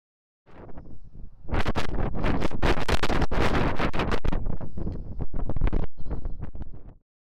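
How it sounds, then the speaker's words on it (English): Strong gusts of wind on a mountain along the Appalachian Trail roar against the microphone in loud, rough bursts for several seconds, then cut off abruptly. "It's windy up here."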